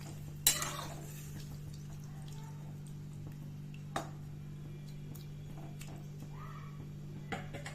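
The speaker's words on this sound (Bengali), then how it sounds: "ভালো করে মশলার সাথে নাড়াচাড়া করে নেব যাতে মশলাগুলো মাছের মধ্যে ভালো মতন শুকিয়ে দেয়" Small fish with spices are stirred in a pan, a few sharp utensil knocks and light scrapes over a low steady hum, close and sparse with no talk.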